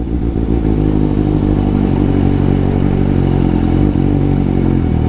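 A Suzuki GSX750 motorcycle ridden hard, its engine loud and close with a rough, pulsing mid-low roar that builds as it accelerates, with clattering mechanical texture throughout.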